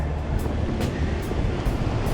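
Ocean waves wash in near a sandbank in a steady, loud broadband surf roar with faint wind buffeting, no voices.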